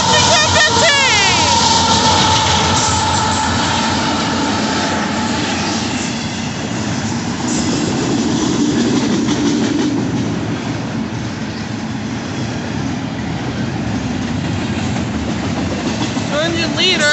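A Union Pacific southbound intermodal freight train, led by locomotives UP 5989 and UP 6215 with a mid-train DPU, rolls past close by. It makes a loud, continuous roar and rumble of wheels and cars, with brief tonal squeals near the start and end.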